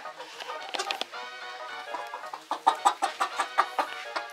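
Chickens cluck inside a chicken coop, a close series of short, rhythmic clucks that grows louder and quicker toward the end, with no talk over them.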